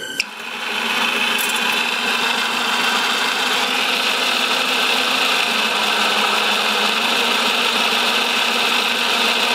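An engine fires up with a sharp start and settles straight into a loud, steady warm-up idle around 1500 RPM, a dense continuous drone with a mechanical whine, close and unbroken with no talking.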